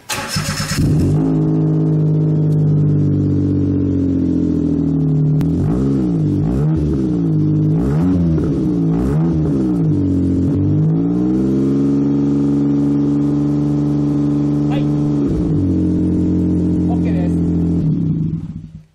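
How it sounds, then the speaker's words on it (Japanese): A car engine fitted with a motorcycle muffler cranks and fires up loudly, settling into a deep rumbling idle with a few revs partway through, throaty exhaust tone throughout. "今マフラーを作った状態での初エンジン始動なので音質がどんな感じになっているのかチェックしていきたいと思います"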